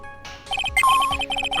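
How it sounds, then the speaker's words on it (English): Metal detector beeping in the Phoenix Wright: Ace Attorney - Trials and Tribulations video game: a rapid series of bright electronic blips with a longer sustained tone in the middle, clean and close. "That's the sound of the metal detector signal bouncing off of something metallic."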